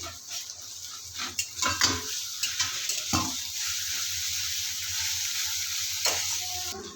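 Onion, chilli and ginger-garlic paste frying in hot oil: a burst of clattering stirs and utensil knocks in the first few seconds, then a steady, fairly faint sizzle with one more scrape near the end.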